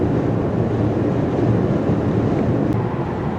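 Strong crosswind roars and buffets steadily around a 2017 Genesis G90 cruising on the highway, a dense, constant low rumble of wind and road noise filling the cabin with no break.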